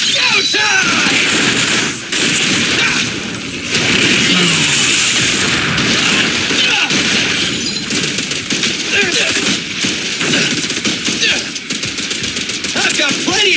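Dense, loud rapid gunfire rattles almost nonstop in Zenless Zone Zero, with heavy bursts and booms and brief pauses, while voices call out over the shooting.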